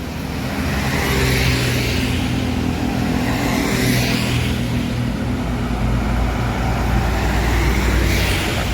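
A Padang intercity bus, a new plain-liveried ANS coach, rolls steadily along the road with a loud continuous engine drone, tyre rumble and traffic noise, no voices.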